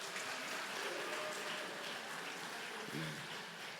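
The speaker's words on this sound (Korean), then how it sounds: "우리 큰 박수로 환영하겠습니다" A church congregation gives faint, distant applause to welcome performers onto the stage, a soft continuous patter of clapping at low level.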